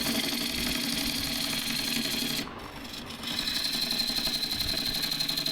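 Wood lathe running at its lower, high-torque setting while turning a sycamore bowl, a steady dense machine hum and whir with a brief dip in the middle before the full noise returns.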